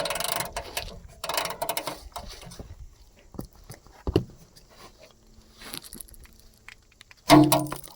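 A ratchet socket wrench working on an old Cummins engine that has sat for years gives off scattered clicks and mechanical rattles. A sharp, loud clack near the end follows quieter handling noises.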